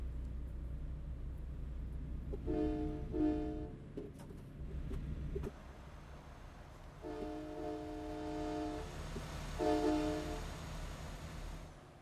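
A train rolling alongside a road in the truck-driving game American Truck Simulator in Iowa, its horn sounding in several loud sustained blasts over a steady low rumble of wheels and engine, with no talking.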